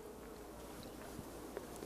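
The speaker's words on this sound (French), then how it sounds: "Là, il y a une abeille qui est en train d'émerger au bout de mon lève-cadre." A honeybee emerging from its cell on a hive frame during an inspection, with a faint, steady insect hum close by and no talking.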